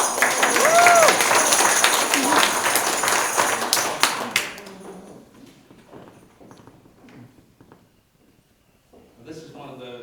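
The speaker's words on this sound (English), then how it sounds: "give her a round of applause." Audience applause at a medieval Twelfth Night Celtic music night: dense, loud clapping fills the first four seconds, then fades out into scattered quiet sounds, with a short burst of activity near the end.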